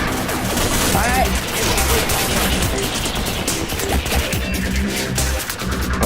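Bursts of rapid gunfire crackle through a busy game soundscape, with voices talking over the shots.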